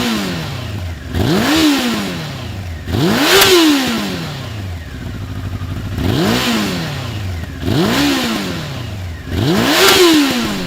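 A first-generation Honda CBR900RR Fireblade sport bike engine revs up in repeated throttle blips, each rising sharply and falling back to idle, loud and close with no talking.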